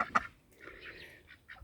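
A hen clucks near a home in rural mid Portugal, a few short sharp calls followed by softer drawn-out clucks, close and fairly quiet with no talking.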